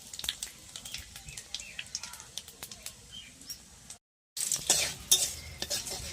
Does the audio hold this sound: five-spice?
yes